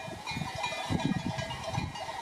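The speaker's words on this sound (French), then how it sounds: "je vous montre l'arrivée des moutons sur les estives" Flock of sheep arriving on summer mountain pasture at the Col d'Arc, with a busy mix of bleats, clanking bells and trampling hooves, fairly close and continuous.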